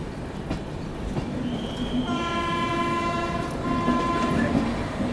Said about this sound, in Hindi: यहाँ पे विशाखापट्टनम से का डीजल लोकोमोटिव और यहाँ कानपुर का WAP-7।